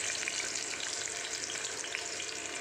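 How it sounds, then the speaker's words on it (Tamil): Mustard seeds and chopped onions fry in hot oil for a Coimbatore-style mutton gravy, giving a steady, loud, dense sizzle with faint crackling and no talking. "கடுகு 2, வெங்காயம் அரிஞ்சு வச்சுருக்கிறத போட்டுக்கலாம்"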